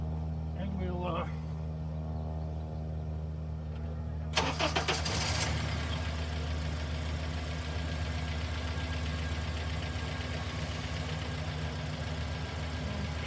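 An engine cranks and starts up, with a brief quiet stretch before it catches, then settles into a steady, even idle that runs on evenly, heard from close by.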